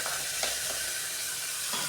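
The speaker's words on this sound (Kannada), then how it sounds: "ಕೊತ್ತಂಬರಿ ಸೊಪ್ಪು ಇವಾಗ ಫ್ಲೇಮ್ನ ಸ್ವಲ್ಪ ಕಡಿಮೆ ಮಾಡಿಕೊಂಡು ಅದನ್ನು 1-2 ಸೆಕೆಂಡು ಈ ಥರ ಫ್ರೈ ಮಾಡಬೇಕು." Chopped coriander leaves hit hot tempering oil with fried garlic over a lowered flame for a lentil sambar, giving a steady, soft sizzle and hiss with a few faint stirring touches.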